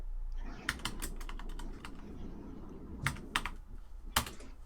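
Typing on a computer keyboard to post in a chat, with bursts of quick close key clicks separated by brief pauses and a low hum underneath.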